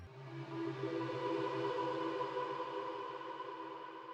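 A soft, washed-out reverberant pad of blended melodic tones, sustained and hazy with no clear attack, fairly quiet.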